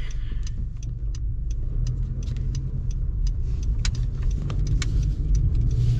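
Steady road traffic noise heard from inside a car stuck in a jam in Canada, with a continuous low engine rumble and scattered faint clicks and rattles.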